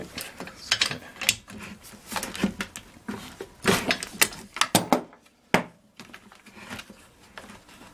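A ratchet with a 5/8 socket works a spark plug out of a Troy-Bilt engine, giving uneven bursts of clicking pawl and clattering metal, close and fairly loud, with brief pauses between strokes.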